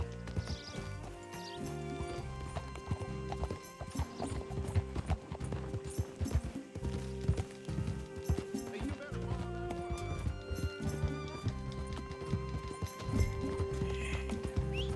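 Rhythmic clip-clop of horse hooves trotting steadily in Red Dead Redemption 2, with a neigh early on, over a busy background of game music and effects.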